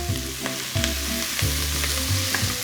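Watercress, bacon and onions frying in a pan, a steady loud sizzle with a few soft stirring knocks, close by and without speech.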